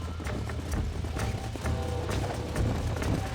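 Horses gallop in Red Dead Redemption, the hooves landing in a steady, close, continuous clip-clop rhythm over a low rumbling bed of sound.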